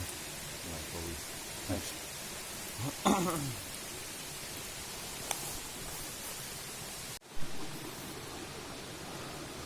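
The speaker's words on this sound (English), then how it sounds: "You might be able to hear water outside. That is a mixture of rain, and it's also the stream running past" Rain mixes with a stream running past a tent in the woods, making a steady broadband hiss heard from inside. Rustles and a couple of bumps break through, and a voice briefly speaks.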